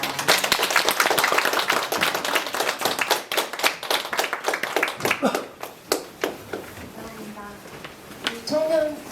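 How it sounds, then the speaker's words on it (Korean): An audience at a panel discussion on inequality applauds author Kang Jin-a. Loud, dense clapping thins into scattered individual claps before dying away, and a voice starts speaking near the end. "강진아 작가님께 다시 한번 큰 박수 부탁드립니다"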